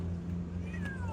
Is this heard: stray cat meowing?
yes